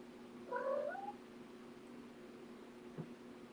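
A cat lets out a single drawn-out, wavering meow, moderately close, followed by quiet room hum and a faint knock, with no one speaking.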